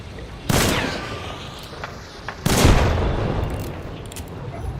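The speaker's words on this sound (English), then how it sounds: "So I'm gonna chuck a frag over at him." Frag grenade explosions in the video game Hunt: Showdown, two loud booming blasts about two seconds apart, each followed by a long rumbling tail of debris, close and alone.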